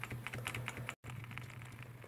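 Keys on a PC keyboard pressed repeatedly during reboot, a rapid run of close, crisp clicks with a brief gap midway, no voices.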